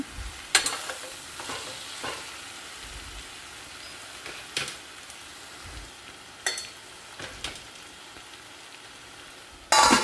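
Brinjal fry with chilli powder and coriander powder being stirred in a pan: a low, quiet sizzle punctuated by a series of brief, sharp spatula scrapes and taps spread irregularly across the clip.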